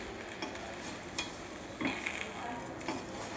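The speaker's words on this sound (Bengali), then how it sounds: "দিয়ে আম আর চিনি ভালোভাবে নাড়াচাড়া করতে হবে।" Mango pieces and sugar are stirred together in a pot for sweet mango pickle, giving a few soft scraping strokes against a quiet hiss, with no talk.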